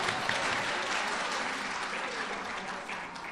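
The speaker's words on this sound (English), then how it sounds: "little golf clap for those folks" A room of workshop or class participants gives a steady burst of light, polite applause, dense and continuous from start to finish.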